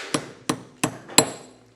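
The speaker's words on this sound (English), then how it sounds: "Right when you hear that first metal hit, you know you went just far enough." Four sharp metallic taps ring out evenly spaced and close as an extractor is pressed into a P365 XL pistol slide during a build, each hit a short bright knock with no talk.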